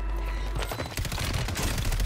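Rapid MTZ rifle gunfire in Warzone on Rebirth Island, a dense unbroken burst of shots that grows louder and fills the whole stretch without speech.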